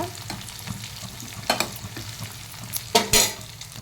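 Onions and dried red chillies fry and sizzle in a pan while a spoon stirs them, with a steady crackle and a few sharp scraping clinks near the end.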